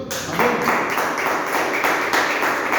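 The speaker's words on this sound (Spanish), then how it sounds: "Le da un aplauso al Señor." A church congregation claps together in a steady rhythm of sharp, repeated hand claps, close and fairly loud, with no talking over it.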